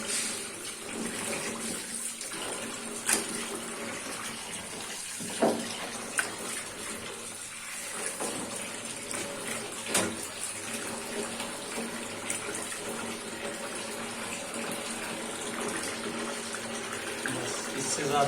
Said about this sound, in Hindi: अच्छे पानी से धोएंगे।